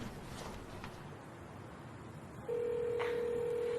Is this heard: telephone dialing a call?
yes